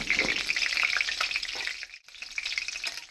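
Curry leaves crackle loudly in hot oil as tempering for a Kerala-style chicken curry, a dense, close spitting sizzle that drops out briefly partway through before surging back.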